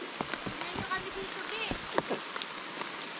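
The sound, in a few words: rain falling in the mountains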